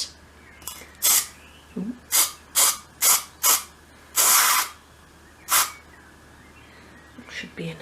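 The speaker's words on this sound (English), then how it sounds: "So I'll start by giving it a good shake. Okay, so let's spray some in there." Someone shakes an aerosol can well and then sprays it in a workshop making a 1/12 scale shop model. Several short sharp hissing bursts come close to the mic, one longer blast sits in the middle, and a brief voice exclamation is heard.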